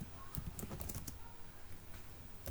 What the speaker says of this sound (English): Note I will type.